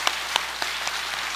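A church congregation gives a short, soft round of clapping in encouragement during a sermon, a few distinct claps standing out over a faint, diffuse patter.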